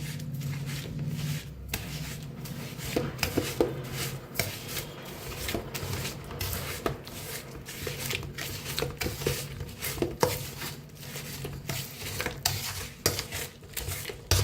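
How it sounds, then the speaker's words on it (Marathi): Semolina being mixed with grated jaggery in a bowl produces rhythmic gritty scraping and light clinks of the spoon against the bowl, repeating steadily up close. "तर हे रव्याला बी एकदा ह्याच्याबरोबर मिक्स करून घेऊया आपण"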